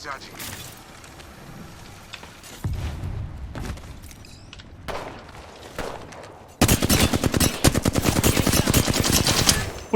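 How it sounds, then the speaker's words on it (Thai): Gunfire in the video game Apex Legends: a few scattered shots at first, then a loud, sustained rapid burst of automatic fire dominating the last few seconds, with voices talking over parts of it. "ปืนอะไรอ่ะ ปืนใหม่เหรอ"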